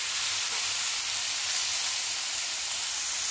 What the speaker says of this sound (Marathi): ते टाकून घ्यायचे आणि हे तेलामध्ये छान भाजून घेऊया